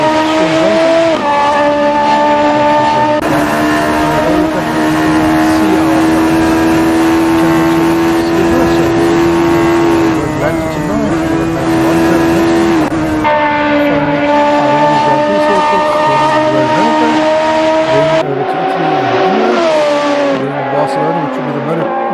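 Radical SR3 race car engine heard from an onboard camera during a Radical SR3 Cup race at Road Atlanta, with a loud, continuous high-revving drone that rises and falls through gear changes and throttle lifts. Commentary runs over the engine throughout.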